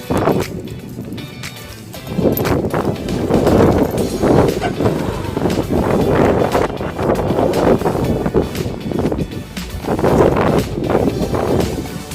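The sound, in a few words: strong wind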